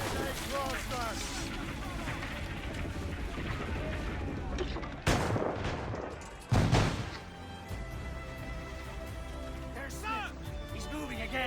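Naval cannon fire in Assassin's Creed Rogue, with ship's guns blasting during a sea battle: two loud booms land in quick succession amid shouting crew voices and constant battle noise.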